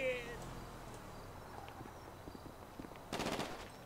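Gunfire in the GTA 5 Online video game: a rapid burst of automatic shots near the end, following scattered faint pops and footsteps, loud against a quiet game background.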